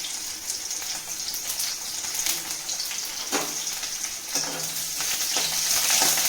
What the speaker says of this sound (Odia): ତେଲ ଗରମ ହେଇଗଲା, ଏବେ କଟା ପିଆଜକୁ ପକାଇଦେବା।